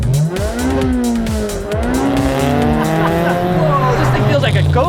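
Honda car with a 1.6 liter B16 VTEC engine driving hard, its engine note rising and falling through repeated loud, close revs while the tires squeal.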